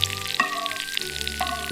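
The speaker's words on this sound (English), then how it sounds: "I stir the vegetables for a few minutes." Potato, carrot and zucchini sizzle while being stirred in a pot, a steady close frying hiss with a few sharp scraping touches of the spoon.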